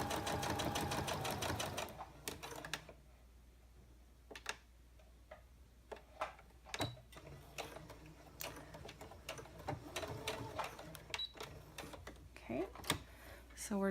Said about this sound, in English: We're just going to top stitch along this side.